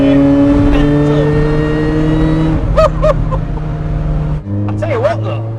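A supercharged Astra van engine pulls hard under acceleration, a loud, close drone with rising and falling pitch as it revs and shifts, with brief voices over the top.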